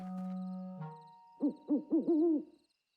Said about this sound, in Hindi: तो देखा बच्चों, ये तो एक उल्लू है।